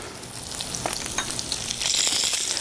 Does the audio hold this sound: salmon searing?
yes